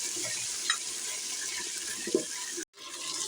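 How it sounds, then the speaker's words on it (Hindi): Five hundred grams of chicken fries in a pan with black pepper, a steady bright sizzle and hiss with a couple of soft stirring clinks, cut off briefly near the end before resuming. "अब हम इसमें डाल देंगे चिकन। 500 ग्राम हमने ये चिकन लिया है, ये अच्छी तरह भून लेंगे"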